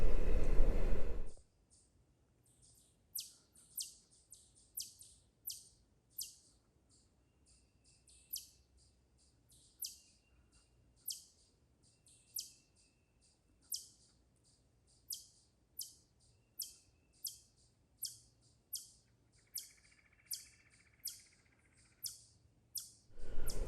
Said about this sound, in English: there were also some in the trees around me chirping